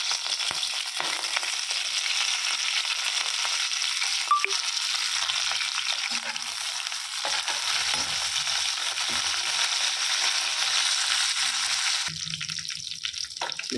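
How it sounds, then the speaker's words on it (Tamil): Curry leaves crackle and sizzle in hot oil, a continuous frying hiss with scattered pops and brief clatters of stirring. "இப்போது ஒரு பிடி அளவு கருவேப்பிலையை இதோட சேர்த்துக்கலாம்."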